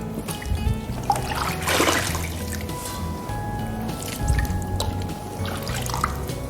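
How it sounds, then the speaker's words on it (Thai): Washed vegetables are lifted from water into a metal basin, giving close trickling and dripping with a few sloshing splashes and scattered drops against a continuous wet background. "แล้วเราก็นำผักขึ้น ไปใส่กระมัง"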